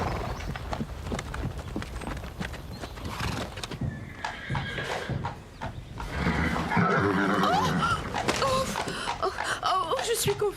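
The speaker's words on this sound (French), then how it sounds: "C'est à cause de ce cheval." A horse clip-clops and whinnies amid background talk, with irregular hoof knocks early on and a louder, tonal neigh-like cry in the second half.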